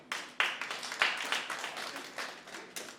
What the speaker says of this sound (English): Clap your hands if you've never been in an orgy.